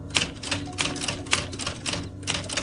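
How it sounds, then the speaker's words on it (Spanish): Heavy typewriter keys clack in a steady run of sharp, close strikes, several per second in uneven clusters, alone without voices. "Son las pesadas teclas de la máquina de escribir."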